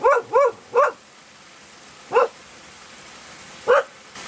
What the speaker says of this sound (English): The dog's seen something.